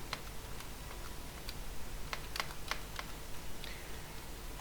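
Keys tapped on a computer keyboard while a date is entered, producing scattered light clicks in short bursts at close range over a steady low room hum, with no talking.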